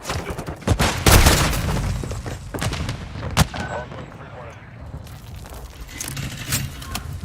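Gunfire in the Modern Warfare video game, sharp shots and bursts scattered over a noisy battle background, loud cracks at intervals with softer rattles between, mixed with game voice chatter.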